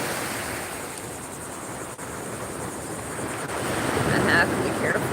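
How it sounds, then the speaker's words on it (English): Ocean surf rolling in on a Florida beach, a steady loud roar of breaking waves mixed with gusty wind buffeting the microphone, with no clear speech. "it seems like the waves come in and just smash into me"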